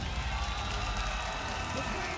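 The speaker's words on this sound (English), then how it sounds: "If you can hear it, the crowd is starting to come alive." Crowd noise at the DreamHack Atlanta esports arena during Marvel Rivals grand finals, a dense, steady roar of cheering with a commentator talking over it.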